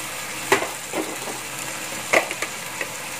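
A spoon or spatula stirs a vegetable stir-fry in a frying pan: a few scraping, clattering strokes over a soft, steady sizzle, close and moderately quiet.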